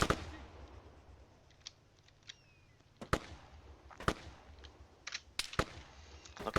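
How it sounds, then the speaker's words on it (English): Scattered gunfire crackles in an Arma 3 infantry battle between NATO and CSAT forces, with sharp single shots and short bursts spaced irregularly over a low rumbling background. "Immediately opening fire on some CSAT."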